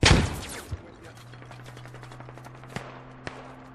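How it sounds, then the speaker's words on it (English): Gunfire in the tactical shooter game Squad, during an urban fight: a loud burst of shots at the start, then a few sharp, more distant single cracks spaced apart over a steady low hum. "Those rounds were close, careful."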